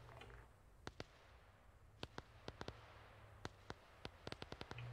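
Fireworks in the video game Arma 3, a series of sharp cracking bangs scattered irregularly over a low rumble, some close together in quick bursts, fairly loud against a quiet background.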